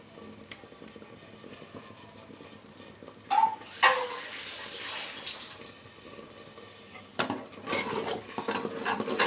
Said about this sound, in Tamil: நல்லா கிண்டிடணும்.